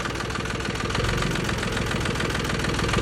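A Jinma 40 tractor engine idles up close, a steady loud diesel rumble with a rapid knocking pulse that holds even throughout.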